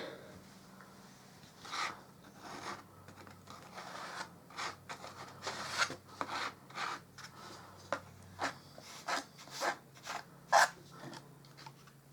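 Plaster spread over an interior wall with a small spatula, giving close, uneven scraping and smearing strokes that quicken into short, sharper scrapes, with a faint background hum and no voices.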